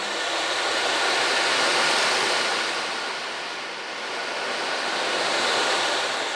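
An ocean drum is tilted slowly so its beads wash across the head, making a broad hissing surf that swells, eases off briefly and then rises again, close and alone.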